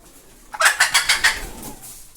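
A hen with newly hatched chicks gives a quick burst of about six sharp clucks, close and loud, then falls quiet.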